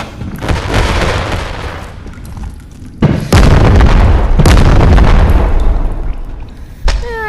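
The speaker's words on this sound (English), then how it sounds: "Yeah, I just wasted all my rockets." Rocket explosions in the video game Animal Company, loud booming blasts in close succession, with heavy bursts near the start and a sustained roar through the middle, followed by a final sharp bang.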